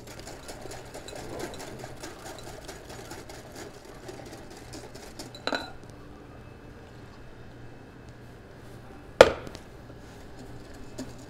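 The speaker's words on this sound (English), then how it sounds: "So we'll just add a little bit at a time, whisking constantly" Eggs being whisked with cream for homemade egg nog, a quick steady ticking of the whisk against the bowl that runs for about five seconds and stops, followed later by a single sharp knock.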